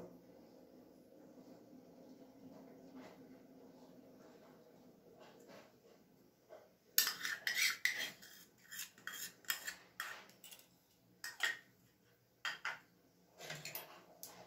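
Batter with jaggery and salt being mixed in a bowl, quiet at first, then a run of close, irregular spoon scrapes and clinks against the bowl.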